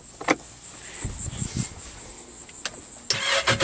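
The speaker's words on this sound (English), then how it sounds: "We're going to start this thing up." A Yamaha jet boat engine cranking and catching, short whirring and clattering bursts followed by a louder rush as it fires, close by with no talk.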